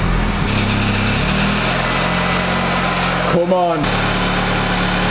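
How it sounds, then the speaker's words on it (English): Audi S3 with injector work, being cranked into a cold start and settling into a steady idle, a continuous low engine hum running throughout with a brief start-up surge, while someone speaks briefly over it. "Next thing to do is just to clear the codes off and then start it up again."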